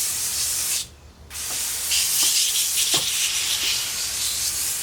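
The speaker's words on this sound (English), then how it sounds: "it is convenient, obviously, having this kind of sprayer, but spray bottles work all the same" Sprayer misting cleaner onto a car roof with a steady, loud hiss, broken by a brief pause near the start, then resuming with a few faint taps underneath.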